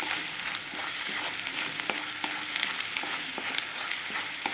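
Coriander powder fries with other spices in a pan for naarthanga pachadi, a close steady sizzle with scattered crackles and light stirring clicks, no voices present.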